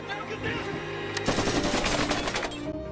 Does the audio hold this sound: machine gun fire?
yes